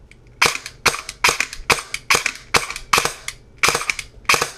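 A G&P Sentry airsoft gun, running on an 11.1 volt battery with a MOSFET, fires about a dozen sharp, evenly spaced shots in quick succession, close and loud, with no talking.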